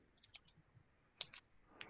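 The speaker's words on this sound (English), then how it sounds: "I was typing in chat" Faint computer keyboard typing during an online group meeting, a few quick clustered keystroke clicks with short pauses, close and quiet against a hushed room.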